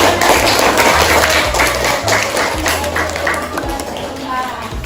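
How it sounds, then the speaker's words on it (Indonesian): Schoolchildren and their teacher clap in a classroom after a student's speech, loud, close and uneven, with talking and voices running through the clapping. "Oke, beri tepuk tangan."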